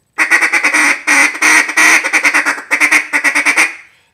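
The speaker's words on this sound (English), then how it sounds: "when they're coming in, I just hit them with the clucks." Rapid bursts of short, clipped duck-call clucks in quick runs, loud and close, with brief gaps between the flurries.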